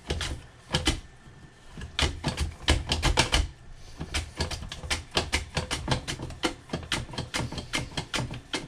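A knife chops firmly through a hard vegetable, likely sweet potato or yuca being sliced for chips, in a brisk series of sharp, close cracks on a board, some bursts quick and rhythmic, others spaced apart.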